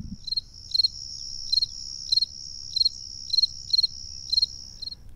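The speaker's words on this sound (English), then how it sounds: "Crickets have a high-pitched chirp." A cricket chirps in a steady rhythm, short bursts of high-pitched trills repeating about twice a second, clear against a quiet background.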